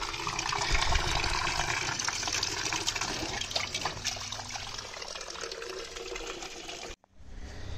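Cold water pours steadily from a large tank into a container, a continuous close gushing rush that stops abruptly near the end, with no talking over it.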